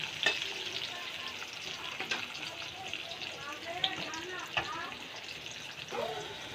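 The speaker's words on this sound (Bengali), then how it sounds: "এগুলো ভাত কেরেলাগুলি হালকা করে ভেজে নামাবে" Stuffed bitter gourd (bhat karela) frying lightly in a pan, a soft steady sizzle with occasional stirring scrapes, while someone talks over it throughout.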